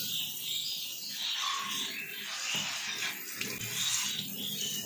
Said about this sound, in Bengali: এইভাবে জল দিচ্ছে মানি প্ল্যান্টে